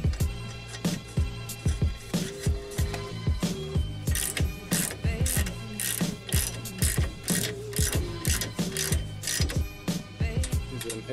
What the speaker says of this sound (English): This is a 21mm nut, so I'm just going to stick that back on.